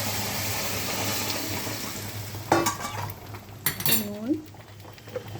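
A pour of lentils into hot tempering in a pot, the steady sizzle cut by a sudden splash and rush, then clattering and stirring as the bubbling settles, with faint sounds of a voice.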